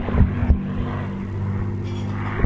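A Spitfire Mark 9, MH434, flies in a Spitfire formation at the Old Buckenham Airshow 2022, its piston engine giving a steady, throbbing drone that carries throughout with no talk over it.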